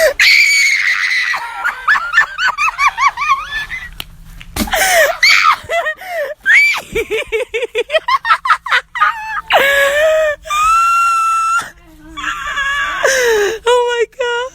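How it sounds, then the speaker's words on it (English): A person screams repeatedly at a snake at a friend's house, loud, shrill bursts rising and falling close to the microphone, broken by short gasps and pauses, with other voices joining in places. "here's a clip of me screaming at a snake at my best friend's house"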